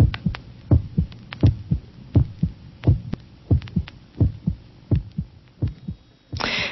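A heartbeat sound effect within a dramatic soundscape throbs in a steady, close, deep double-thump rhythm of about a dozen beats, alone and loud, ending with a short noisy swell.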